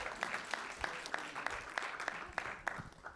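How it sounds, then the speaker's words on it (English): Sparse applause for a speaker at a community meeting about an entertainment and sports arena, a few distinct claps in a steady rhythm over a quiet, distant room background. "Yes, please give him a round of applause."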